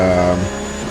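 A Porsche Cup car's engine hums loud and close at the Indianapolis road course in the racing game AMS2, a steady tonal drone that drops away within a second.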